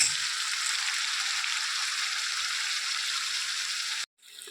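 Turmeric and crushed chilli hit hot oil for a duck curry, giving a steady, bright frying sizzle that runs unbroken for about four seconds before cutting off abruptly.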